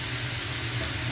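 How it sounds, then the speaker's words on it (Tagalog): Fresh chicken pieces sautéing in ricado aromatics in a pan, giving a steady, close hiss of sizzling oil that continues unbroken for a brief moment. "Ating isasangkot ko sa kanyang ricado."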